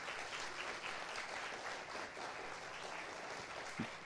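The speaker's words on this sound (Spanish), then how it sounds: "darle la bienvenida a la palabra del Señor con un fuerte aplauso en esta noche" A church congregation claps steadily in welcome of the scripture reading, a faint, even wash of applause with no voices over it.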